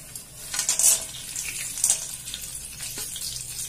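Peanuts frying in hot oil with cumin in a pan, giving a bright steady sizzle and crackle close by, with a couple of sharper spattering bursts.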